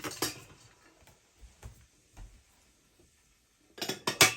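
A pot of dried fish curry lifted off the stove, with scattered metallic clinks and knocks of cookware, quiet gaps between them and a louder cluster of clatter at the end.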